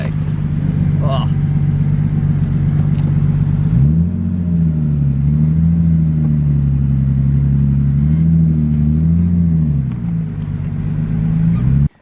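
A Nissan Skyline R33 engine idles loud and close with a steady low rumble, its pitch dipping and rising as revs waver, after a few seconds of muffled background noise; a voice is heard over it.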